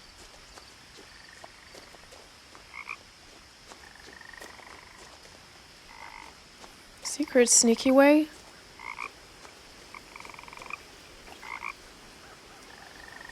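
A frog croaks in a rapid burst in What Remains of Edith Finch, loud and close for about a second, with a few softer calls around it over a quiet outdoor ambience and a brief spoken line.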